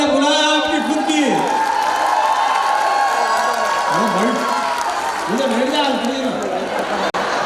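Crowd cheering and applause fill a comedy segment at a poetry gathering and social event in Mumbai, a steady loud roar with whoops throughout while a voice speaks over it.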